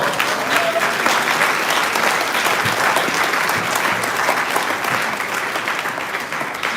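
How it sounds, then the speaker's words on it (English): A full round of applause from the audience at a Malcolm X commemoration event, dense sustained clapping that stays loud and even for several seconds before easing slightly toward the end. "Give her a round of applause."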